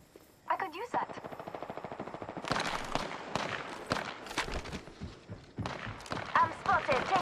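Gunfire in the Apex Legends video game: a rapid, evenly spaced burst of shots, then denser, louder volleys and impacts that continue in bursts over game noise.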